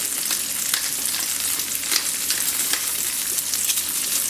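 Chicken breast seasoned with kosher salt and black pepper frying in a little olive oil in a pan, giving a steady, close sizzle with fine crackling pops throughout and no talking.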